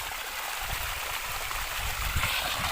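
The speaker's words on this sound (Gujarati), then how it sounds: "અને આવી રીતે અમારે અહીં હોજ ભરવાનો છે પાણીનો." Water flows steadily into a village storage tank, making a continuous rushing, gurgling wash that holds even and close throughout with no voices.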